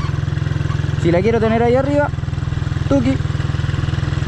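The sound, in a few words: motorcycle engine held slightly revved while turning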